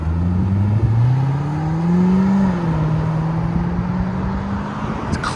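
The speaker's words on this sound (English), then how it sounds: "Shows that it has some sort of muffler on it, but not crazy loud, just a clean, deep tone. That was valves closed, Valvetronic Designs muffler." A 2009 Chevy Corvette Z51 with a 6.2L V8 and Valvetronic Designs muffler, valves closed, revs up in a smooth rising deep drone, peaks, then settles to a steady lower tone at close range.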